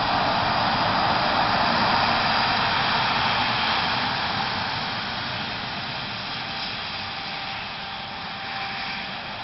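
A Conviasa airliner at El Vigía airport rolls toward takeoff with a steady, loud jet-engine roar, the broadband rumble holding and then easing slightly, with no talk over it.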